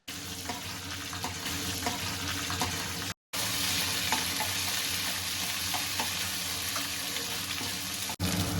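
Ginger-garlic paste fries in hot oil with onions, green chilies and fenugreek leaves for a Telugu fish curry, a loud continuous sizzle broken by stirring scrapes and one brief cut, no voices.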